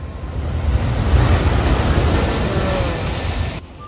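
Sea waves wash steadily onto the shore beside a mosque in the Maldives, a close, continuous broad rush of surf with a little wind, fading slightly at the very end.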